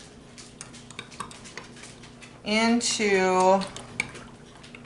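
A spoon stirs yeast into liquid, giving a run of light, quick clinks and ticks against the container throughout. A brief spoken word cuts in partway.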